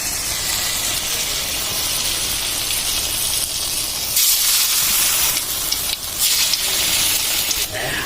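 Jackfruit leaf pakoras deep fry in hot oil with a loud, steady hissing sizzle that surges briefly a few times, running unbroken for the whole stretch.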